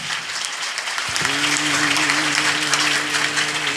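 A church congregation claps warmly for a pastor at a Palm Sunday service, dense, even applause sustained throughout with a brief low thump near the start and a steady tonal hum underneath.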